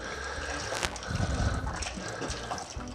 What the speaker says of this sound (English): Pour in your entire box of your chicken broth, or chicken stock in this case, and stir it up.